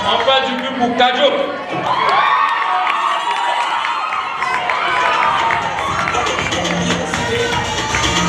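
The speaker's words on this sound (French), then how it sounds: "On fait du bruit pour Kajo." A crowd at a CACU 2024 tournament final cheers and shouts loudly for a team, with whoops and children's voices in a continuous roar mixed with talking.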